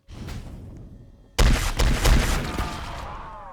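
Gunfire in the Roblox game Dead Rails: after a quieter stretch, a loud sudden burst of several rapid shots rings out close and sharp, followed by more crackling reports and a fading ring, with no talking over it.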